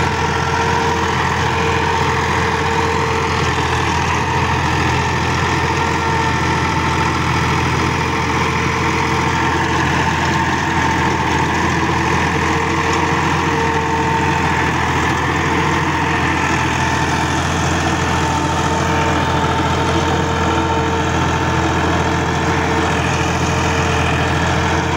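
A Massey Ferguson 260 Special Edition tractor with a 48-blade rotavator idles steadily at close range, its low diesel rumble holding an even tone throughout with no talk.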